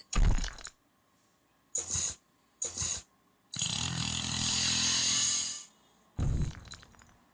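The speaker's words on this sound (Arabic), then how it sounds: "دريل. نحفر." A drill grinds through a wall in a prison escape video game, several short harsh bursts followed by a longer, loud continuous grinding run, then one more brief burst.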